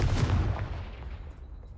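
A Confringo blasting-spell explosion in the video game Hogwarts Legacy: one deep, booming blast up close that rumbles and fades away over about a second, with no talking.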